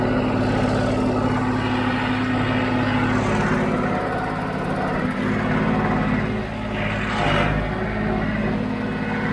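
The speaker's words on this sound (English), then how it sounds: "This tractor is really loud." A loud tractor engine drones steadily up close while fertilizing hay fields, a constant low hum with slight swells in intensity and no talking.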